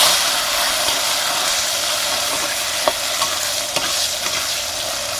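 Chopped onion and tomato sizzle steadily in hot oil with fenugreek seeds and curry leaves, a loud continuous frying hiss with a few stirring clicks.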